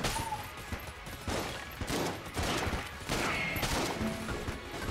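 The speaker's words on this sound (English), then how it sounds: "Zilla shotgun, the shots do seem to go a very respectable distance before they disappear" Zilla shotgun blasts in the twin-stick game Enter the Gungeon, a dense run of loud, repeated shots with broadband bursts roughly every second, layered over continuous game effects and faint music.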